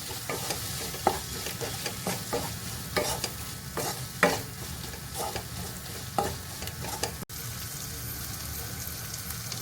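A spoon repeatedly scrapes and clicks against a pan while stirring soy sauce, chili sauce and vinegar for fried semiya, over a low steady sizzle, fairly quiet and close.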